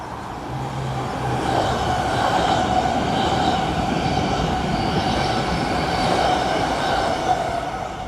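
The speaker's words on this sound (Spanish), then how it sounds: "Y miren esta vista, ahí pasa un tren." A train rolls past near Lake Geneva at Vevey, a steady close rumble of wheels and carriages with a low tonal hum, holding loud through the whole stretch with no talking.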